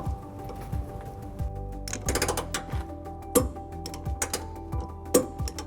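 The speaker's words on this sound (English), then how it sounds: "take our 11/16 socket and torque wrench and torque it to manufactured spec" Torque wrench with an 11/16 socket ratchets on trailer hitch bolts during an install on a 2018 Nissan Sentra: close, rhythmic clicking in repeated strokes, with brief metallic ticks in between.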